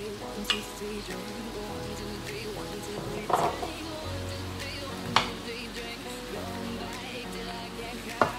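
Pepper, carrot and shrimp samosa filling stirred in a pan, with a soft steady sizzle and a few sharp utensil scrapes and clinks, close and moderately quiet, no talk.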